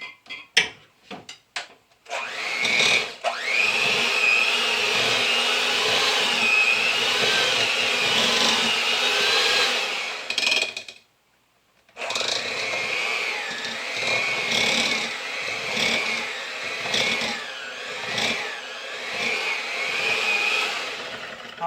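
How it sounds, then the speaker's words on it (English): Butter and sugar being creamed for an applesauce cake, likely with an electric mixer, give a steady, close whirring drone that runs continuously, cuts out briefly partway, then resumes with a slightly uneven, fluctuating tone. "We're going to cream the butter and the sugar."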